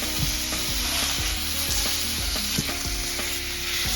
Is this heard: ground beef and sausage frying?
yes